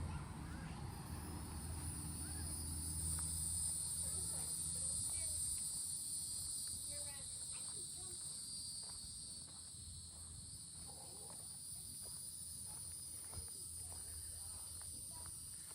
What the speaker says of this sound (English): Here's the cicadas in the background.